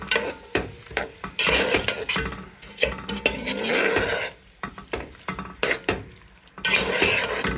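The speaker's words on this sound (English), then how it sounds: "You just keep on stirring it." Noodles are stirred in a hot pan with a utensil, giving repeated scraping strokes and light metallic clinks over a soft, steady sizzle. The sound is close and moderately quiet, with no voices.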